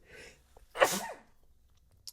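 A single sharp sneeze bursts out after a short quiet inhale, close and clear, followed by silence.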